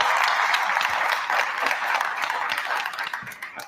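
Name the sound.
audience applause at a board meeting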